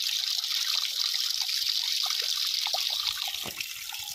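Continuous borewell water, flowing 24 hours a day for over a month, makes a constant close hiss with bubbling splashes and a few low thumps toward the end.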